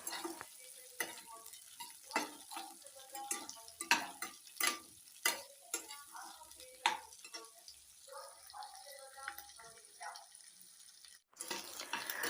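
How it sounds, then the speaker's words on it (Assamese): Two green chillies and roughly chopped onions frying in a pan, with soft sizzling under repeated sharp scraping and stirring strokes close by, steady throughout. "এতিয়া আমি জলকীয়া 2টা আৰু ডাঙৰকৈ কাটি লোৱা পিঁয়াজখিনি দি দিছোঁ আৰু অলপ সময় আমি ভাজি ল'ম"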